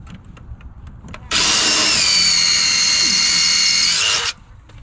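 A small DeWalt power tool runs on a piece of wood near shingles during form work: a loud, steady whir that starts abruptly, holds for about three seconds and cuts off sharply over a quiet outdoor background.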